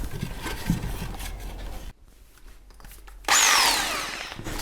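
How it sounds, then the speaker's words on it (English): A power drill bores out a pre-spotted hole in wood with an 8mm bit while making workshop shelves, with grinding bursts, a short quiet gap, then a loud, harsh high-pitched whine that holds steady to the end. "I'm just drilling it out now with an 8, just to take a plug"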